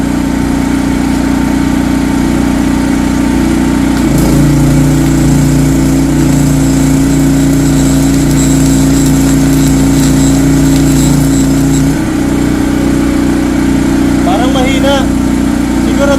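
Philking 4200W inverter generator running steadily and loud under a heavy welding machine load, its engine tone stepping up and shifting pitch partway through, with faint voices in the background.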